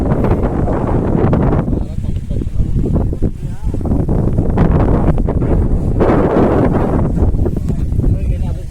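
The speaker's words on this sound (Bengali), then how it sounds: "প্রচুর বাতাস, প্রচুর বাতাস।" Strong wind on the bank of the Sangu river roars into the microphone in loud, continuous buffeting gusts that swell and ease, with a voice partly buried beneath the rumble.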